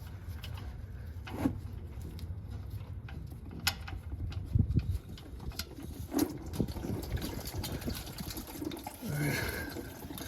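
Engine oil pouring from the drain of a third-generation Toyota Tacoma into a catch pan, a steady liquid splash and trickle with scattered clanks and knocks close by, with no talking.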